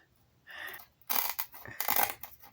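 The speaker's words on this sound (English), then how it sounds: "You can hear all the whatever glue that they use to bind this together." Dry crunching and crackling comes from the old glued binding of a book being worked, in two or three close, uneven bursts, fairly quiet overall.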